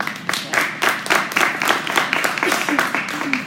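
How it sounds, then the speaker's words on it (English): An audience claps to welcome a speaker at a business event about the Rock the South festival, with distinct rhythmic claps close by over a moderate crowd and voices talking underneath. "So y'all give a round of applause to Ahmad."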